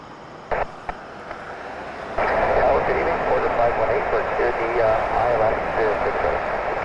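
A WestJet airliner takes off at Toronto Pearson Airport at night. Distant jet roar builds and holds as a broad, steady rush, and people talk through the clip.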